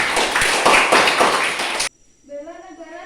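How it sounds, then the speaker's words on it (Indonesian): A classroom group in an Indonesian civics lesson claps in a quick, rhythmic burst lasting about two seconds, then the sound cuts off abruptly to a brief tonal voice. "Kita berikan aplaus atau tepuk tangan."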